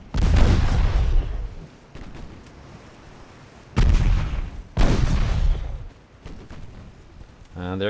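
Torpedoes launching from a warship in a naval battle game, several heavy booming bursts with rumbling low tails spaced a few seconds apart, loud and close, ending in a rising tonal chime.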